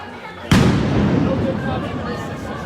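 A single loud firework blast goes off at a street protest outside a federal courthouse in Portland, a sharp boom at half a second followed by crowd noise, with voices murmuring underneath throughout.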